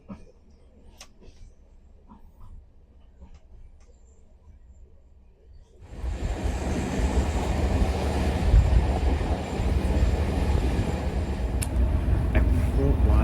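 A Bulgarian Railways passenger train rolls along the tracks, starting as a faint rumble under quiet background noise and then swelling into a loud, continuous rushing roar of wheels and carriage.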